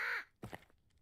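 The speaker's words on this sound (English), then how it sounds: "And crows." Crows cawing in a trailer for a pre-Viking era game: one loud harsh caw, then a quieter pair of calls, with nobody speaking.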